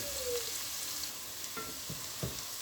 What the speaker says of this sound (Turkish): Soğanlarımı ve sarımsaklarımı güzelce kavurdum.